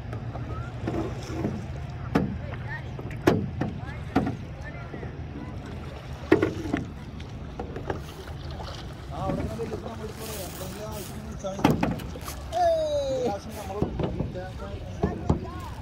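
A boat out on Wascana Lake in Regina, Saskatchewan, with a low engine-like rumble and water noise under wind buffeting, while voices call out nearby over the top.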